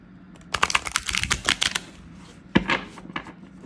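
Quick bursts of shuffled cards riffling and snapping together, a dense flurry followed by a pause and a few softer shuffles, close and clear.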